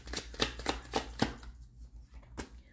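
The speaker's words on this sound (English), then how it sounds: "Need two cards." A deck of tarot cards is shuffled by hand, producing a quick series of crisp riffling snaps close to the microphone. A short pause follows, then one final flick.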